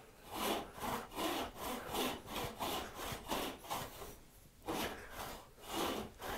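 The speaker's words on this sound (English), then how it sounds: "So I make a full stroke all the way through, middle of the saw both ways." A hand saw cuts through wood in full, even back-and-forth strokes, each push and pull a rasping swell, about a dozen in steady rhythm with a brief pause near the end; close and clear, no talking.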